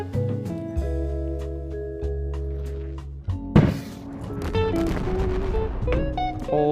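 Explosions from RPG rockets in the VR game Animal Company: a heavy blast bursts in around the midpoint and is followed by scattered crackling impacts, all over a steady tonal game-music drone.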